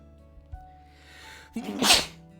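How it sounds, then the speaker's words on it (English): A single sharp sneeze in a video game bursts out after a quiet stretch, loud and close, with a short wind-up before the explosive release. "A sneeze?"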